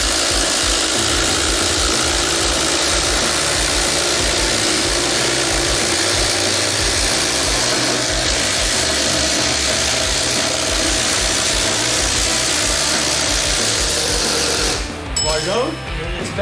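Two cordless impact drivers, a Kobalt XTR and a DeWalt, run nonstop side by side in a loud, steady mechanical whir with a dense rattling hammer texture, briefly shifting and stuttering near the end.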